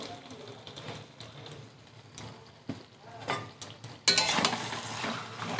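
Broiler chicken and salted onions stir-fried in a pan, with a spoon scraping and clinking against the metal amid soft sizzling, growing louder and busier in the last second and a half.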